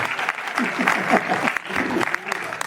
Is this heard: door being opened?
no